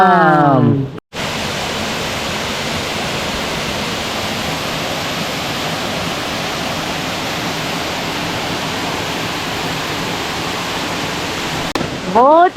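A waterfall roars as a dense, steady rush of falling water, loud and continuous from up close, with a short break near the start and a brief trace of voices at the edges.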